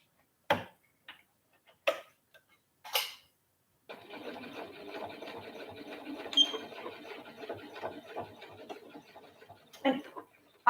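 A sewing machine stitches a back stitch into fabric, its needle running in a fast, steady ticking rhythm for several seconds after a few separate handling clicks.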